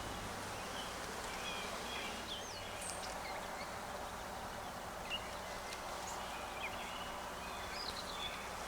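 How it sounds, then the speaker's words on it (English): Honeybees swarm around an open hive whose core frames are packed with bees and brood, making a steady, dense hum that persists at low level throughout, with a few brief higher buzzes close by and faint outdoor chirps in the background. "There was one bee trying to sting me."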